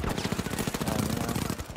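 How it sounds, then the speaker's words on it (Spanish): Rapid automatic gunfire in the shooter game The Finals, a fast loud burst of shots in tight succession with overlapping fire, sounding close and continuous before tapering at the end. "Madre mía, ya empezamos con los tiros."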